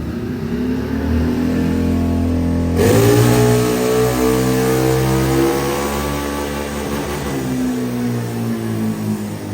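A CFMOTO vehicle on stock tires revs steadily on a dyno in low range. The close, loud engine note climbs in pitch through a sustained pull, then eases off near the end, with no talking.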